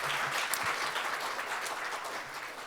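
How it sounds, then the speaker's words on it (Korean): Applause from a seated forum audience of finance professionals, a steady dense patter of many hands clapping in encouragement, moderately distant and even, with a few brief low thumps beneath it. "한 박수를 부탁드립니다"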